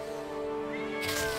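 A cat meows once in the South Park: Snow Day! video game, a drawn-out, close, tonal cry over game sounds.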